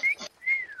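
A person whistles twice in quick succession, imitating a whistle: a short bright note, a breathy pause, then a longer note that slides slightly downward, close and clear.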